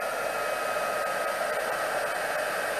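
Heat embossing tool blowing hot air over embossing powder in a papercraft setup, a steady, close, hair-dryer-like whoosh with no breaks and no talking.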